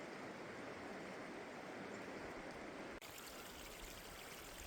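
Steady rushing flow of the Hoh River beside an Olympic rainforest trail, a dense broadband wash of water heard close and continuous with no voices.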